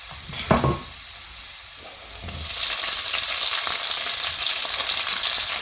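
Sliced shallots hit a hot pan with a sharp clatter, then a steady, loud hiss of frying builds and carries on without any voices.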